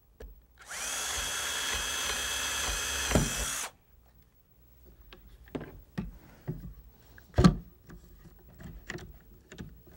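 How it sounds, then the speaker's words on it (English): A power drill bores a pilot hole into a clamped wooden board for an ice fishing hand sled, one loud sustained whine lasting about three seconds, followed by scattered knocks and handling clatter. "finish drilling the pilot holes into the board once it's all clamped together"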